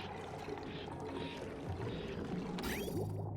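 Fresh water flowing from a pump in the video game Oxygen Not Included, a steady broadband pouring wash that runs throughout, with a brief bright splash near the end.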